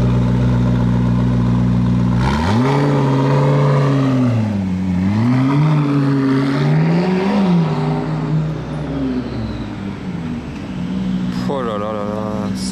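A car accelerates past on a street, its engine note climbing sharply and swinging up and down through the revs before fading away, with a second rising engine at the end and people talking nearby.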